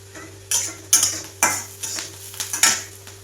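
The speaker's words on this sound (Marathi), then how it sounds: "कांदा भाजला की मी त्याच्यामध्ये हा नारळ टाकलेला आहे" A spatula stirs grated coconut and onion roasting in a pan, with regular sharp scraping clanks about every half second over a faint sizzle and no talking.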